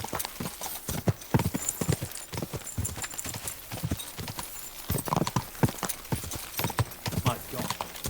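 A horse's hooves clip-clop steadily and fairly close in Kingdom Come: Deliverance 2, with a brisk uneven rhythm of sharp knocks running throughout, and a voice speaking over parts of it.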